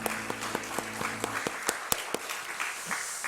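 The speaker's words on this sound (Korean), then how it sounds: "우리 하나님께 영광 박수 올립니다." A church congregation claps along during a service, first in an even rhythmic beat, then thinning into scattered, louder individual claps.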